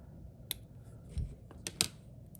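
Scissors snip through overlapping ribbon on a Hanukkah shaker magnet craft, a few quiet, sharp clicks spaced apart over a couple of seconds, close by with no talking.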